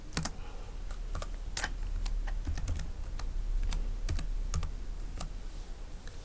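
Fingers type on a computer keyboard in a quick, uneven run of sharp key clicks with short pauses, close up and with no speech.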